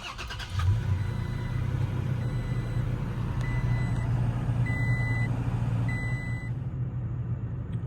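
A 2022 Toyota Tacoma TRD Sport starts with a quick cranking burst, then its engine settles into a steady mid-pitched idle. Short electronic chimes sound several times midway through, and no one speaks.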